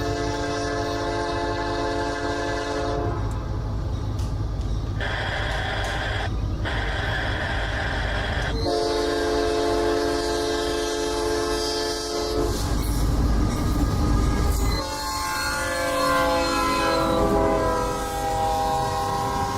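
A train passes, loud and close, with long sustained horn blasts that stop and start, and a steady rumble of wheels and cars on the rails beneath, recorded in stereo on a PCM recorder.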